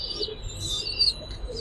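Giribaz high-flyer pigeons in a loft give soft, continuous cooing and chirping calls, moderately close, with no talk.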